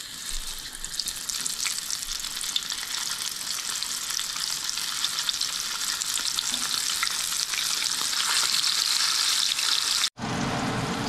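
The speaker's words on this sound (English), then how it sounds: "Now we are ready to fry the fish." Coated smelt fish fry in hot oil with a loud, steady, dense sizzle that keeps going without a break for about ten seconds, then cuts off abruptly into a brief, quieter tail at the end.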